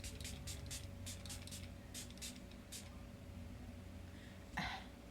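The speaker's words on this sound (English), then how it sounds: "I'm going to go ahead and spray my face with a little bit of my" Catrice Prime and Fine facial setting spray misted onto a face at close range: a series of short hissing puffs, then one louder final burst, with no talking.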